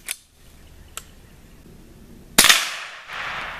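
A Marlin Model 60 .22 rifle fires a single sharp, loud shot into pans during a penetration test, preceded by a couple of faint clicks and followed by a short trailing wash of noise.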